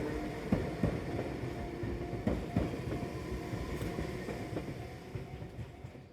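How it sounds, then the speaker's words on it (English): A train pulls out of Hase Station on the Enoshima line in Japan, giving a steady low rumble with scattered clacks and knocks of wheels over track, fairly near and gradually fading, with no talk. "film this train leaving Hase Station"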